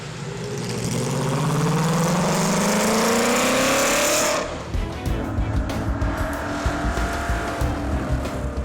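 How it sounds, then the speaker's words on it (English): A Mercedes-Benz 300 SLR race car with a 3-liter 8-cylinder engine screams past at high revs, its loud rising wail sustained for several seconds before it cuts to a rough, rumbling burble further away. "The sound of the 8-cylinder engine"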